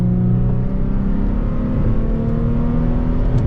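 An Infiniti G35 engine held at high revs in third gear, a loud steady droning hum with a strong tonal growl, close and continuous from inside the car.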